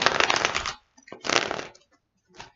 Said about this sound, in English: I'm gonna just put this one to the side and still pull my regular cards